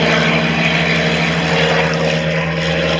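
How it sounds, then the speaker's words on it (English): A de Havilland Chipmunk with its classic Gipsy Major piston engine drones loudly and steadily at a small airfield open day, the propeller hum holding a strong, even tone throughout. "Love the sounds of the classic Gypsy Major engine"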